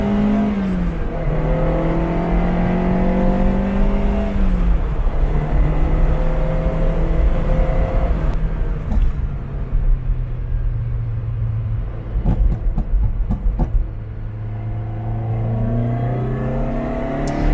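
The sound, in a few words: Ferrari 308 driving on a test drive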